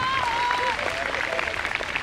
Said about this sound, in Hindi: जोरदार तालियां बच्चों।